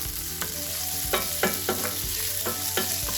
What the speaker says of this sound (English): In the frying pan, I'm rendering down some bacon.